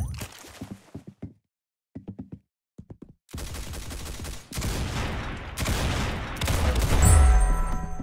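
Gunfire in a competitive shooter game during a tournament match: a few sparse single shots at first, then dense loud bursts of automatic fire building to heavy booming volleys near the end.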